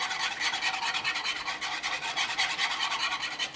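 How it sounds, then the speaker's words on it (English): A whisk beats gelatin into liquid, giving a steady, dense, close-up scraping rasp that runs without pause for a few seconds. "I'm going to grab a whisk here and just whisk that in."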